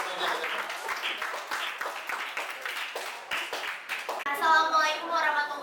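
A classroom audience claps for a student group: a burst of many hands clapping at an uneven pace, close and lively, with children's voices chattering over it toward the end.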